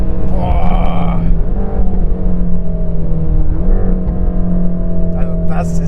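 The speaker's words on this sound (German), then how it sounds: "Der Durchzug von dem Motor bombastisch." A Mercedes-AMG GT Black Series engine roars loudly as it accelerates at high speed, pitch rising through gear changes, heard from inside the cabin.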